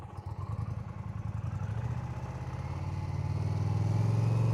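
A motorcycle engine during slow-speed riding practice, running with a rhythmic throb that climbs steadily in pitch and loudness as the throttle is held up, close and alone with no talk.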